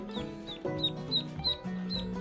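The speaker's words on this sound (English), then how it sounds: "we just started raising 40 khaki Campbell ducks" Young khaki Campbell ducklings on a small farm peep and chirp in a busy, overlapping chorus, close and continuous, with high-pitched calls repeating every few tenths of a second.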